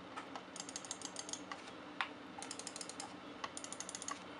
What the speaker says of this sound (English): the click on the Deathadder and the click noise on the Imperator